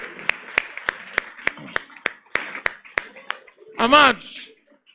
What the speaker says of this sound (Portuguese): Vamos aplaudir o Senhor Jesus?